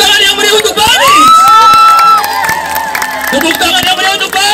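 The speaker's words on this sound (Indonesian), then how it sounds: "Tepuk tangan yang meriah untuk Banis." A lively crowd at a fun walk event in Tegalega, Bandung cheers and shouts, with high children's voices and whoops over scattered clapping, loud and close.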